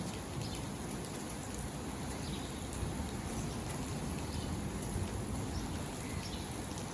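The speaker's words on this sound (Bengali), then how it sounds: "সকাল সকাল বৃষ্টির মুখ দর্শন করলাম" Steady, even rainfall hissing and pattering throughout, a continuous broadband wash with no voices or breaks.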